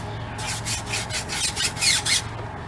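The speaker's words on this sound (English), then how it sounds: "Hard bristle brush to get the tires clean." A hard bristle brush scrubs the tires of a BMW X5 M during a rinseless wash, giving rapid, rhythmic, raspy strokes, loud and close with no talk.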